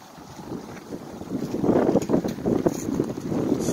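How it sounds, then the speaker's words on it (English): Wind at about 19 miles per hour buffets the microphone in gusty, rumbling surges, loud and close, rising and falling throughout. "it's a little windy, about 19 miles per hour"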